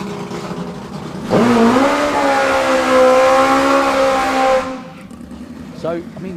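Twin-turbo drag racing fuel bike ridden by Ricard Gustafsson at a drag racing main event, roaring loud and close in one sustained high-revving pass of about three seconds, its pitch climbing, before dropping away to background noise and commentary.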